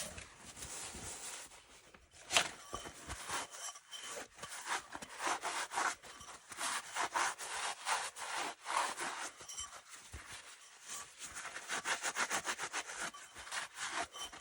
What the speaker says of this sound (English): Now I will take a clean shop towel and we will wipe back the excess